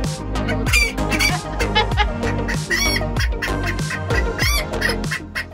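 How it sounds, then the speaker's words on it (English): Loud, rapid chicken clucks and squawks burst out in quick succession, close by, with no talking. "clucking really loud and making funny noises for an hour"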